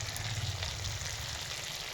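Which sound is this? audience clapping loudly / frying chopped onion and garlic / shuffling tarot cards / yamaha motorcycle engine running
frying chopped onion and garlic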